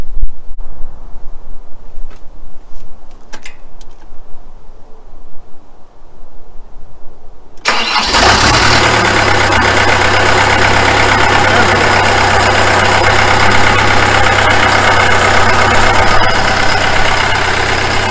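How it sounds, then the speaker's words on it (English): A hydraulic-driven firewood processor engine sits silent, then cranks and catches about halfway through. It settles into a loud, steady idle with a deep, constant rumble as it warms up. "So right now we're just going to let the machine warm up a little bit."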